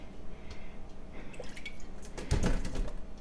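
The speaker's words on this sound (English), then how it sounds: "and then I'll just drain the rest" Water poured off cooked potatoes from a heavy pot, quiet trickling and dripping that builds into a brief louder splash near the end.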